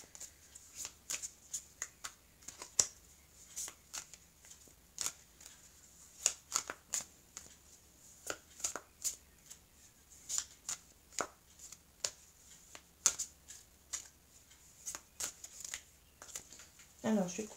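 A deck of oracle cards being shuffled and cut by hand in a quiet room, soft crisp riffles and taps in irregular bursts throughout, near and fairly faint.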